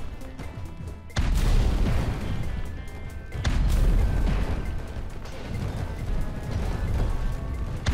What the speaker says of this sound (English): if we fire the projectile now, it should have an incredible launch speed